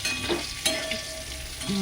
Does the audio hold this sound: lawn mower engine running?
no